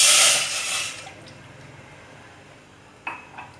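A glass of water splashes into a pot for about a second, then stops, leaving quiet with a couple of faint clinks near the end.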